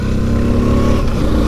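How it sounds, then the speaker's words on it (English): Royal Enfield sidecar motorcycle engine running while riding, a loud, close, steady throbbing thump heard from beside the engine, continuous with no talk. "These Enfields really do sound good, especially when you're sat right next to the engine."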